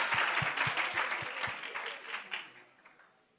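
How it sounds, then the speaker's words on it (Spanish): Audience applause at a suicide prevention conference, a dense burst of clapping from a crowd that gradually fades out over a few seconds. "un fuerte aplauso para Miguel Ángel."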